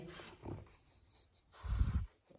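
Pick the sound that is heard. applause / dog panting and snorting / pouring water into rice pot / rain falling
dog panting and snorting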